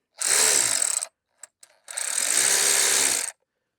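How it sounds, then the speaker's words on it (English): A power tool tightens a car battery cable back down on a Chevy or GMC truck with a GM 5.3L or 6.2L engine, giving two loud, close, buzzing whirs about a second each, separated by a few short clicks. "I'm going to reconnect that battery cable, tighten it down."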